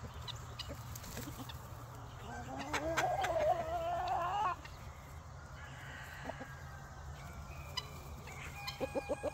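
Chickens clucking and squawking close by on a homestead, with a rising agitated call in the middle and short clucks toward the end, over a low steady background hum.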